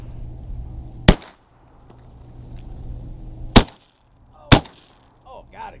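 Three sharp shotgun blasts fired while duck hunting over decoys for bluebill and bufflehead, loud and close, spaced about a second and a half to three seconds apart over a low outdoor background.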